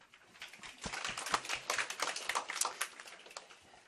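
An audience claps at an information session for an art teacher recruitment exam. The dense patter of many hands is fairly quiet and steady, with no voices over it.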